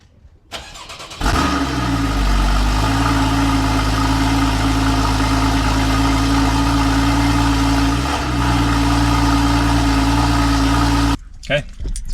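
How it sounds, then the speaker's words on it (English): A Porsche Cayman S engine, picked up at the rear of the car, cranks and fires, then settles into a loud, steady idle with a brief rev before cutting off. "Let's do a little startup, shall we?"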